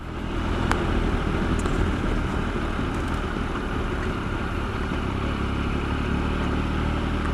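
A motorcycle rides a trail on a winter day, its engine a steady mid-pitched drone with rough clatter throughout, loud and close, with no talking.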